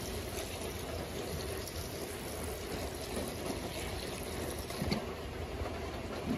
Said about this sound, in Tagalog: Pagkatapos ito, lagyan natin ng tubig.